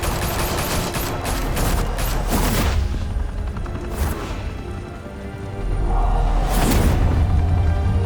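Gunfire in a Batman Telltale game scene: dense volleys of rapid shots in the first seconds, then a few more bursts over a low rumbling background.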